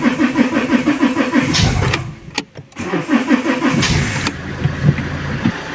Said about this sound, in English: So let's get the car running at idle and see that.